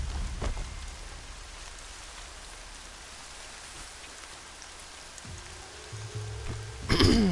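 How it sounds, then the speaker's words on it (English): Steady rain falling at a camp in the video game Horizon Zero Dawn, a soft continuous hiss of drops throughout, with a brief thump early on and a short mechanical rattle and louder clatter near the end. "Every time you go to a camp it rains."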